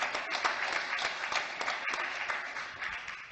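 An audience applauds a colleague at a talk, a steady wash of many hands clapping throughout at moderate volume, with no voices over it.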